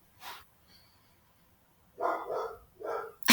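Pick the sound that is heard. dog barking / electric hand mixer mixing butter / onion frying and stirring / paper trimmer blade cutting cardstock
dog barking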